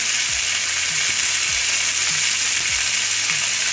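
Peas for kachori filling sizzle steadily in hot oil in a pan, with a spoon scraping and stirring through them a few times at a regular pace, close and loud with no talking.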